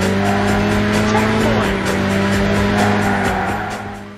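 Racing car engine roaring with squealing tires from the racing video game Burnout, a loud, continuous high-speed drone with skidding throughout, fading slightly at the end.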